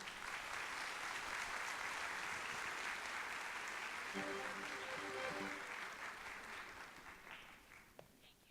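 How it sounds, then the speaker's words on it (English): An audience at the Weslaco ISD Fiesta Conference gives a team a long round of dense, steady applause that slowly fades toward the end, with a brief murmur of voices partway through. "let's turn around and let's applaud our great team, Weslaco ISD"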